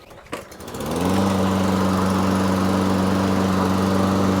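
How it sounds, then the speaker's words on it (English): A Toro Recycler 22-inch walk-behind lawn mower (model 21445) is pull-started: a brief rattle of the recoil cord, then the engine catches on the first pull and settles into a loud, steady, close-up run. "so that mower started right up on the first pull"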